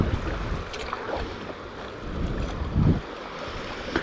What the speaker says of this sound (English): I'm avoiding the worst of this white water